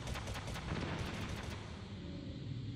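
Burst of gunfire from the Metal Gear Solid video game, a quick run of sharp shots in the first second and a half, then fading into a dense rumbling game backdrop.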